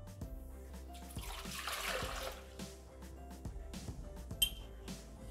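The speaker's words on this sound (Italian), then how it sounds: "Iniziamo la ricetta mettendo all'interno del boccale l'acqua," Water pours into a Thermomix TM6 mixing bowl, a steady splashing fill that swells and then eases, close and moderately loud, with faint clinks from the bowl and no speech.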